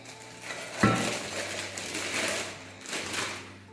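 Stainless steel casseroles, a saucepan, a fry pan and lids being handled, giving a sharp metallic clank near the start and softer knocks and rattles over a steady background hum.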